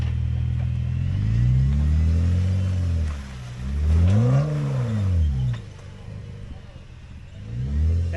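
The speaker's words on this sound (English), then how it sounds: "now that you're in 4-wheel drive, go over with some momentum." A 4-wheel-drive vehicle climbs an obstacle on a Tennessee off-road trail, its engine rising and falling in loud revving surges, with people talking nearby.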